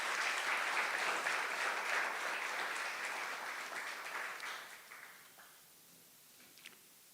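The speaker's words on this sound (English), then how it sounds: "if you could just give our sponsors, partners, all the folks that made this happen a round of applause" Sustained applause from an audience at a country music tribute show press conference, a dense, loud wash of clapping that gradually thins and fades out over the last couple of seconds.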